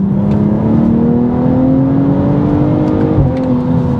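Tuned 450bhp BMW M240i xDrive with a B58 engine pulls hard through the gears, a loud steady drone climbing in pitch, with a brief dip and pop at an upshift near the end.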